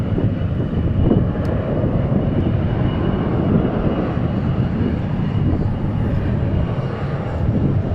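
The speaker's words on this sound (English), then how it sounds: "So there is the A380." Airbus A380 airliner at DFW International Airport, a steady broadband engine roar sustained throughout, fairly loud and continuous without talk.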